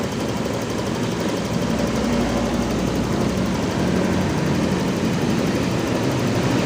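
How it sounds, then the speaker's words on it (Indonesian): Honda motorcycle engine revved up to about 1000 RPM, a steady continuous low rumble with no change in level, close and fairly loud. "Sekarang RPM tak besarkan jadi 1000."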